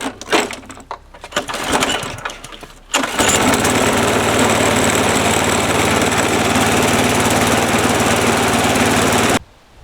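Efco lawnmower with a primed Quantum engine sputters and knocks briefly, then roars into a loud, steady running drone for several seconds before cutting off abruptly.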